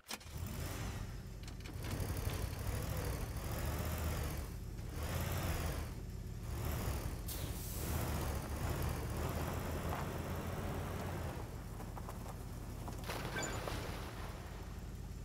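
A car engine in the Teardown video game: a low, steady, quiet motor drone with swelling and fading revs while driving, no talking.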